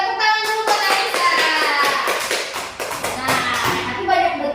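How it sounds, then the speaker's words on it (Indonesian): A classroom of students clapping for a classmate after her reading, a dense burst of hand claps lasting several seconds with children's voices mixed in. "Oke, tepuk tangan dulu buat Anissa"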